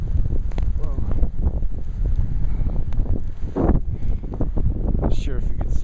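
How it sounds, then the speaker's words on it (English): Gusty wind whips along a Chicago street during a heavy blizzard, a steady blustery rumble with microphone buffeting and scattered rustles, loud and close throughout. "It's pretty windy when you turn corners, but it's pretty typical of Chicago."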